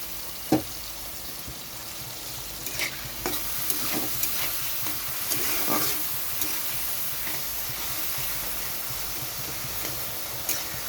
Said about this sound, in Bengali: এখানে আমি অল্প পরিমাণে জল দিয়ে দিচ্ছি আরও একটু কষানোর জন্য